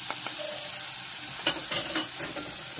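Chili, turmeric, coriander and cumin powders fry in a pan with a steady close sizzle, broken by a few scraping stirs of a spoon.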